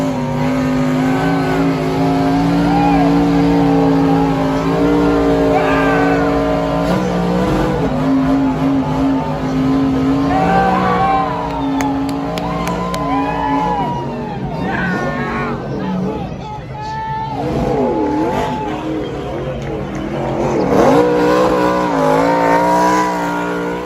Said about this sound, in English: Carson Hocevar is able to celebrate doing those wonderful victory burnouts.